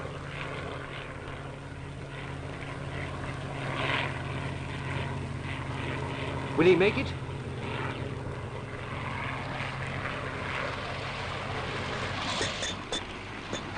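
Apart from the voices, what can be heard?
propeller airplane with damaged tail flying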